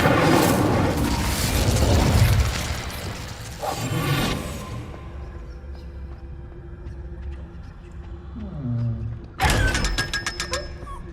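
The Incendio fire spell in Hogwarts Legacy erupts with a loud roaring burst that fades into a crackling tail, followed by quieter mechanical clinks and a second sharp flare near the end.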